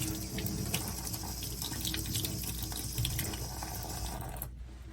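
Water runs steadily from a tap over an oral appliance as it is rinsed of saliva and soap, a close, even splashing stream that cuts off just before the end.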